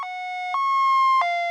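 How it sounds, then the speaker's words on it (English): An ambulance siren rings out in a clean, steady two-tone pattern, high and low notes swapping every half second or so, loud and close with nothing else heard. "It's the ambulance."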